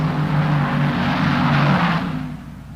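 Drag racing cars at the 1972 NHRA Winternationals launch off the line as a steady loud engine roar that holds for about two seconds and then fades, with no voices.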